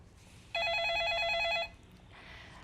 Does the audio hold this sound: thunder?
no